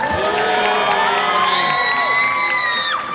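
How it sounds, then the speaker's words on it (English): A crowd at a tiger show at a Six Flags theme park cheers, whoops and shouts, with children's voices rising above steady clapping, loud and close for a few seconds. "How about a round of applause for Maxim,"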